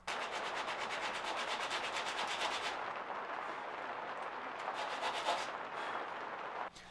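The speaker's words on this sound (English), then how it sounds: "swap out the rasp or file for your trusty dowel and sandpaper" Heavy-grit sandpaper of around 40 to 80, wrapped on a dowel, scrapes across knife steel in fast, close, rhythmic strokes, a steady harsh rasping with no talking.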